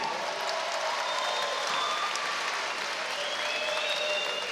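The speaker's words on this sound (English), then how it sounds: "let's have a round of applause for our only female fighters here tonight" A crowd at a 52kg fight night applauds the only female fighters on the card, with a dense, steady wash of clapping and a few faint whistles across the whole stretch.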